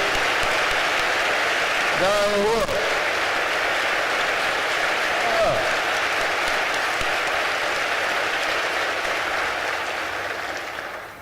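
Sustained applause from a church audience at a town hall, loud and dense throughout, with a voice briefly calling out over it early on, easing off only at the very end.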